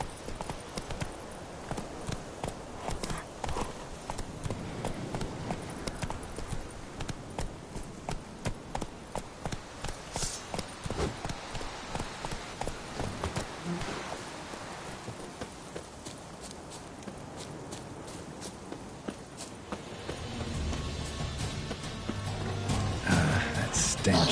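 A ridden horse's hooves clip-clop in a steady fast rhythm, close and prominent, over a rumbling background that swells toward the end as a voice speaks.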